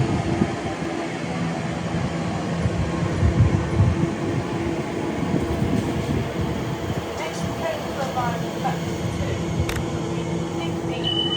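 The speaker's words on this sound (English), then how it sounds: "The next train to arrive at platform 1 will be the 15:05 Elizabeth line, service to Maidenhead." An Elizabeth line train at a station platform on a main line, a continuous loud rumble of rolling wheels and motors with faint squeals and a steady tone, while a platform announcement plays over it.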